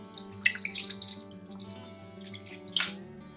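Plain water is poured into a vegetable papadum batter mix in a home kitchen, giving short splashy pours, quiet and close, with no talk.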